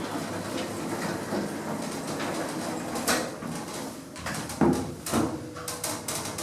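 Hospital lift doors slide shut with a near rumble and a couple of clunks near the end, over a steady mechanical hum.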